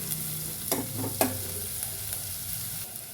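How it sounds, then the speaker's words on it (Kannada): Chopped onions and green chillies frying in a pan for a radish-greens palya, a steady close sizzle with a few sharp scraping stirs of a spatula early on, no talking. "ಸ್ವಲ್ಪ ಫ್ರೈ ಮಾಡ್ಕೊಳ್ಳೋಣ"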